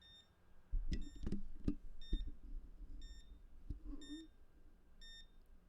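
Bare-bones electronic alarm of a Game & Watch Gold Series handheld, a thin high beep repeating in short even pulses throughout, with a few knocks and handling sounds in the middle.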